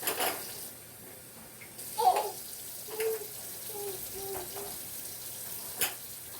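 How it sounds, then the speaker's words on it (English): Water is poured into thick gravy in a pan during a steak and gravy cooking session, giving a few short, quiet splashes and bubbling gurgles spread across an otherwise calm kitchen. "Gotta add some more water."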